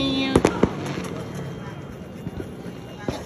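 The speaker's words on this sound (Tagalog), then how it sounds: "We're gonna set the fireworks." Fireworks set off at a New Year celebration, with several sharp bangs in quick succession near the start and another later, over a crowd noisily cheering and talking.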